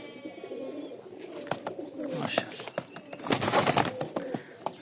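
Pigeons coo in low, rolling calls from a loft where the birds are kept for sale, with wing flaps and scuffling noises mixed in close by.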